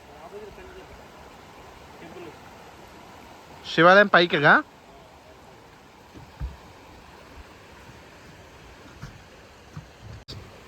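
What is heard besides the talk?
waterfall flowing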